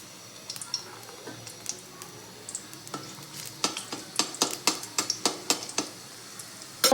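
Garlic and ginger fry in oil for homemade pasta, crackling softly and then turning to a run of sharp, regular clicking and scraping taps from a spoon stirring in the pan, close and without voices.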